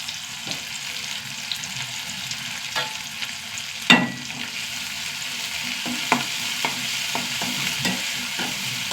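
Small shallots and curry leaves fry in coconut oil in a pan, a steady close sizzle dotted with light stirring clicks and one louder clank partway through; nobody speaks.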